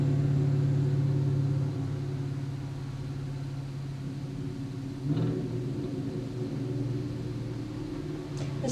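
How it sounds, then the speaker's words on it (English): Motorcycles rev loudly outside, a steady low engine rumble that holds throughout with a brief swell of throttle midway, no talking over it. "Do you like cars making a lot of noise?"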